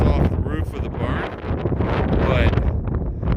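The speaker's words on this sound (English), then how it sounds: "Sorry about the wind, but she's a breezy one out here today." Strong wind buffets the microphone with loud, rumbling gusts, a constant roaring bluster with faint voices half-buried beneath it.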